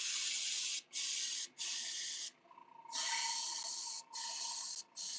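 Loud, close airbrush hiss painting fishing lures in repeated bursts, with short gaps between sprays and one longer pause in the middle.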